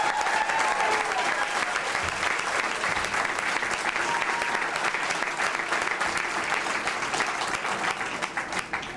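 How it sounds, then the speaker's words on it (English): Sustained applause from a campaign audience honoring the team and volunteers, a dense steady wash of many hands clapping for about nine seconds, with faint cheering voices mixed in and a slight fade at the end. "I want to thank them and give them a round of applause."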